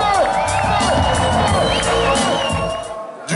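A concert crowd cheers and shouts loudly and continuously, with whoops and scattered high voices rising over a dense roar that eases slightly at the end.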